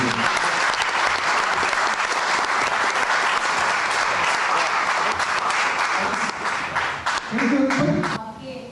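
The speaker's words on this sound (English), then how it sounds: "I think huge round of applause for Mr. Shailendra Singh." An audience at a book launch gives a sustained, loud round of applause, dense clapping that carries on for several seconds before thinning out near the end.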